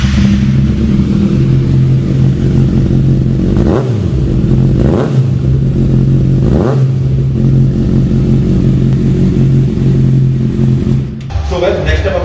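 A loud motorcycle engine idles steadily with a few sharp throttle blips rising and falling, close by, with a hum running throughout.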